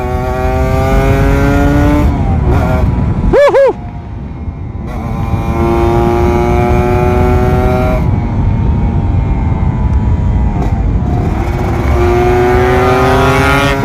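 Kawasaki Ninja RR 150 two-stroke motorcycle engine while riding, loud and close, revving high and climbing through the gears with sharp drops between shifts, a brief blip and rev-up mid-way, then steady rising pitch again.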